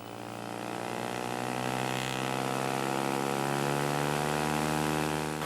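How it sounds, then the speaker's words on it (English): Siemens EADS DA36 E-Star 2 hybrid aircraft, an electric drive fed by a generator on a small rotary engine, turning its propeller at the Paris Air Show: a loud, steady droning hum with strong tonal harmonics, swelling slightly as it holds. "The airplane is powered by a hybrid system comprising an integrated drive system from Siemens and a generator fed by a small rotary engine."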